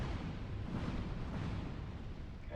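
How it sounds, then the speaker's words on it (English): Salamander enemy shooting fireballs in Dark Souls 2, heard as a steady, dense roaring burst of fiery rumble lasting throughout, loud and close with no talking. "there's a lizard right there, a little salamander, and he's gonna shoot fireballs"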